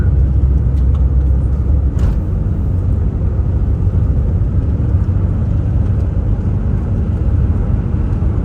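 A Volkswagen Vanagon Syncro drives a snowy winter road, its engine and road rumble heavy and constant from inside the cabin, with a faint click and no clear change in pitch from the downshift.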